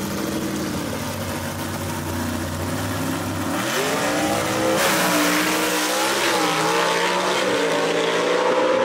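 Gasser drag race cars, including an Anglia, racing at Kil-Kare Dragway, loud engines roaring continuously with rising revs through gear changes, close and dominant throughout with no talk.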